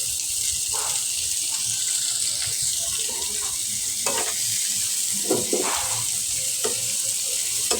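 Chopped onions fry in hot oil in a pan beside fish, a steady broadband sizzle with scattered stirring clicks and scrapes running the whole way through, close and fairly loud, with no voices.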